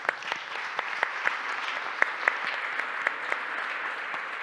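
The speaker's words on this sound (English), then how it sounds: "Warm applause for them." Audience applause at a conference on equal opportunities, a steady wash of many hands clapping at moderate distance, fairly soft, with a few sharper individual claps standing out.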